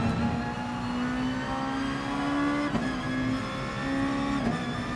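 A race car engine in Gran Turismo Sport drones loudly and continuously at high revs, its pitch steady with slight rises and small shifts, close and alone throughout.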